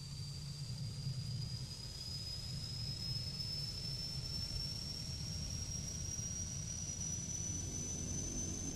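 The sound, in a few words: aircraft engine starting in Flight Simulator X, video game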